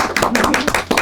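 Brief burst of audience applause at a farm-village energy transition forum, dense overlapping claps from a crowd, close and lively for about a second.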